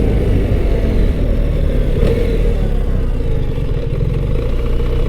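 A heavy 2025 BMW R1300 GS Adventure motorcycle on a test ride: a loud, continuous engine drone with a low rumble and steady mechanical clatter, throttle held fairly even throughout.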